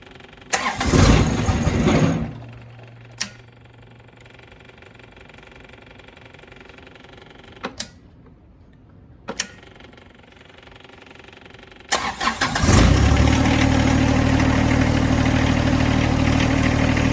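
A John Deere 1025R compact tractor engine cranks and catches briefly near the start, stalls, gives short isolated clicks, then restarts loudly around the twelve-second mark and settles into a steady, rumbling idle.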